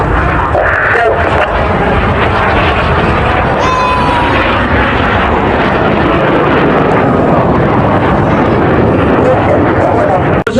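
Display team jets roar past during double rolls at the Blackpool Airshow, a loud, sustained rumble that fills the whole stretch while a commentator talks over the public address.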